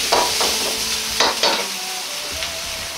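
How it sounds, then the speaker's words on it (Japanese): Minced meat sizzles and crackles steadily in hot oil, with a few louder pops and scraping stirs from a spatula in the pan. "ひき肉はパチパチと油で弾けるような音がするので炒めていきます"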